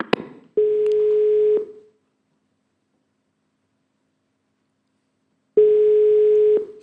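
A telephone call to the municipality makes a ringing tone: two steady, low, even beeps about a second long, separated by several seconds of silence.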